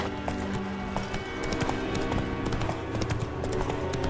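Roach, a horse in the video game The Witcher 3, gallops with steady rapid clip-clop hoofbeats over ambient game background sound, close and continuous throughout.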